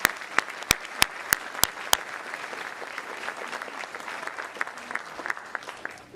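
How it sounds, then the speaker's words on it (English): Applause for award recipients at a high school academic recognition evening, with a run of loud, close, evenly spaced claps at the start over softer steady clapping from the crowd. "one more round of applause for all of our award recipients this evening"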